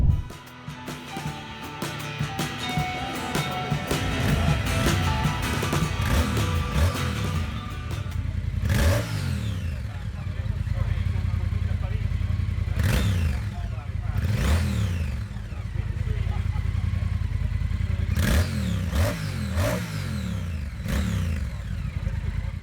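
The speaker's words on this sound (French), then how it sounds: "c'est une moto sur la base de la 1200 Bonneville" A 2019 Triumph Speed Twin motorcycle, built on the 1200 Bonneville base, idles with a throaty rumble. Its twin-cylinder engine is blipped in several sharp revs that rise and fall back, close by, with a voice talking at times.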